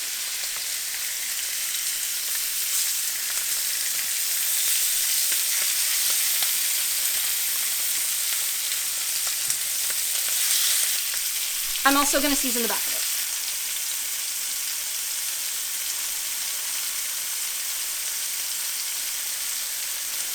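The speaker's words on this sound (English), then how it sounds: "we want to hear that sizzle to know that it's hot enough" Steady hiss of chicken sizzling in hot oil in a frying pan, continuous throughout, with a brief clatter midway and a voice speaking briefly.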